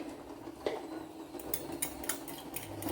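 A spoon stirring pepper powder into a quail egg dish, light scattered metallic clinks and scrapes against the pan, close and fairly quiet.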